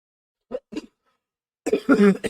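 A person vocally imitates a character waking and coughing up water: two short, sharp cough bursts a moment apart, a brief pause, then a louder, longer spluttering, gurgling cough-like noise, close and unaccompanied by speech.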